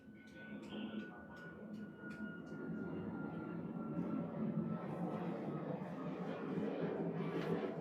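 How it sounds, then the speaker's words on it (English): Airplanes passing overhead on a busy morning near an outdoor cricket ground, a steady broad engine roar rising gradually in the background throughout. "You can hear all the planes going."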